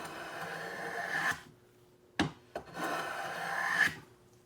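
A hand plane shaves pine wood in two long, close, hissing strokes, each ending in a sharp knock, with a couple of short clicks between them.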